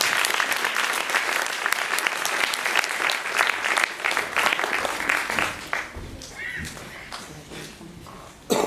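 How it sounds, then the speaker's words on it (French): Theatre audience applause, dense and steady at first, then thinning into scattered claps and a few voices before dying away. "Donc vraiment des applaudissements à la fin,"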